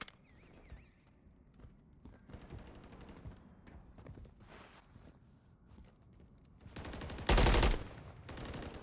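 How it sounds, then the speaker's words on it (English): Gunshots in a competitive video game match, scattered faint shots and rattling bursts amid footsteps and movement noise, ending with one loud sharp blast near the end. "Shots beginning to ring out."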